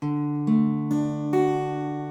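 A guitar chord for a song is played slowly, with its notes entering one after another in four separate plucks. Each note rings on, so they build into a sustained, clear chord with no talking over it.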